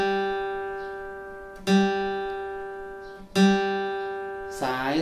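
A guitar's third string plucked open and tuned to G, rung twice with a steady sustained tone that slowly decays between picks, quiet and close, with a short other sound at the end.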